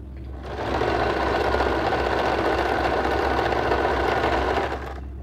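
A sewing machine runs steadily for several seconds stitching the folded hem of a night gown, a close, even mechanical whir that starts and stops cleanly.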